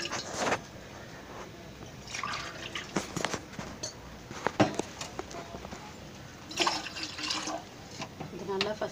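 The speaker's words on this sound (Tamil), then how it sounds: "இந்த மாதிரி 2 டம்ளர் தண்ணி சேர்த்துக்கோங்க." Water pours and splashes into a cooking pot in a few short bursts, two tumblers' worth for lemon rasam, with occasional clatter of the vessel in between.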